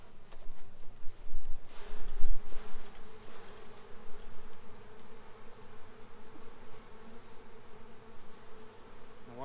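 A dense swarm of honeybees hums and buzzes continuously up close, loud and steady, swelling slightly near the start.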